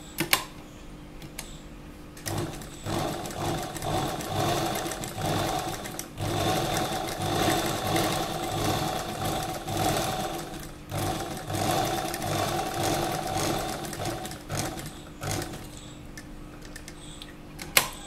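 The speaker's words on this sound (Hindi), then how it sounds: "अब हम एकदम यहाँ कैनवास की इस तरफ सिलाई लगाएंगे" A sewing machine stitches along canvas in long, steady runs of rapid mechanical chatter, broken by short pauses between bursts, close and moderately loud with no talking.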